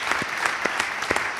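A brief burst of audience applause at a live interview show, a run of close claps with a few sharp hand strikes.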